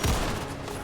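Sentry bots in Fallout 4 firing, a short rapid burst of gunfire, loud and close, lasting under a second.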